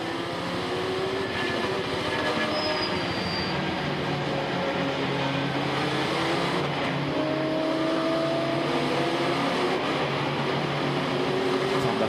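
GT and prototype race cars of the 2013 American Le Mans Series circuit a narrow track at the Oak Tree Grand Prix, their engines a steady, continuous roar with rising and falling whines throughout, no voices heard.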